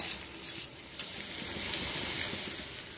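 Three kinds of capsicum and a little onion, salted, sizzle and crackle as they are stir-fried in a pan, with a couple of louder stirring scrapes near the start over a steady hiss.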